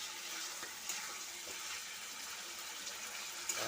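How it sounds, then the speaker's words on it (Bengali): Water poured into a pan of thick, well-fried curry, pouring hiss blending with steady close sizzling throughout, with a couple of brief splashy accents and no talking. "এখন একটুখানি জল দিয়ে দেবো।"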